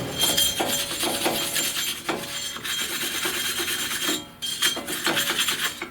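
Rough scraping and rasping as the brake hub faces of a 2016 Honda Pilot are cleaned, repeated abrasive strokes in irregular rhythm, close and fairly loud, with a few faint metallic clinks and no talk.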